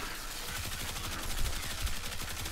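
Amprex beam rifle firing continuously in the video game Warframe, a dense, rapid crackling stream of pulses that stays loud and even for the whole burst.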